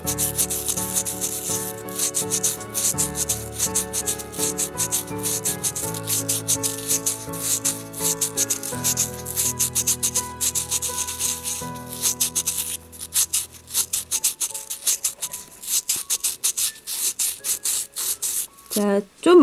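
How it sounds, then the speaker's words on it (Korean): Sandpaper rubs back and forth over a clay miniature bowl in steady, close scratching strokes, rhythmic and continuous, quieting near the end before a brief final scrape. "사포를 그 부분을 조금 많이 집중적으로 힘을 줘가지고 좌우로 점토를 갈아낸 다음에 다시 한 번 더 면 처리를"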